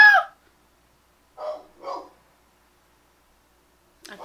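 A dog barks several times in short, separate bursts: one at the start, a quick pair a second later, and another at the end, with silence between.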